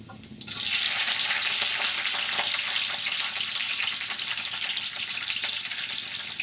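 Green chillies, mustard seeds and cumin hit hot oil with a sudden burst of sizzle after a brief quiet start, then a loud, even frying hiss continues to the end.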